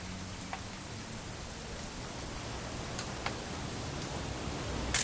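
Rain in What Remains of Edith Finch lands on surfaces as a constant hiss. Occasional distinct drip clicks stand out, and the sound swells slightly toward the end with no voices present.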